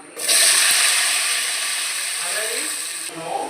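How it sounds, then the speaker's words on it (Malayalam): Onion and tomato sautéing in hot coconut oil with mustard seeds for a chicken curry, giving a loud, steady sizzle that starts abruptly and holds throughout, with no talking. "അതിലേക്ക് നമുക്ക് ഉള്ളിയും തക്കാളിയും ഒക്കെ ഇട്ടൊന്ന് വഴറ്റിയെടുക്കാം കേട്ടോ."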